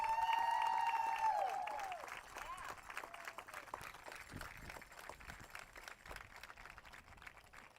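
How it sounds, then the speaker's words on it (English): A crowd at an outdoor high school baseball game applauds the state champion team, distant and faint clapping and some cheering after a brief whistle-like tone, with voices mixed in. "Let's give this group of state champions a round of applause."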